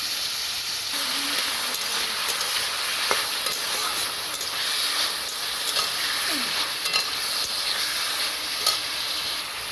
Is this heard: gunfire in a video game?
no